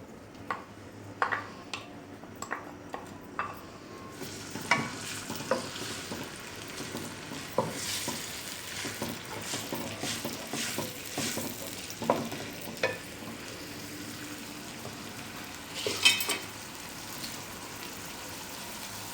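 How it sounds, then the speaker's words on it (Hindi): Chopped garlic sizzles and crackles in hot oil over high flame, frying to golden brown, with a utensil stirring and scraping the pan now and then. Close and fairly quiet, with no talking. "इसमें सबसे पहले जो लहसुन हमारे पास चॉप किए हुए थे ये डालेंगे और इनको गोल्डन फ्राई कर लेंगे"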